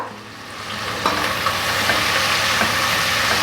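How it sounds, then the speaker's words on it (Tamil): Onions sautéing in oil in a pan give off a steady, dense sizzle throughout, with a few faint clicks as they are stirred. "வெங்காயத்தை கொஞ்சம் டைம் எடுத்தாலும் எண்ணெயில் பொறுமையாக வதக்கி கொடுத்துக்கோங்க"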